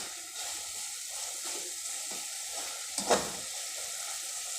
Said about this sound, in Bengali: এভাবে নেড়ে চেড়ে মশলাটাকে ভাজা করে নিতে হবে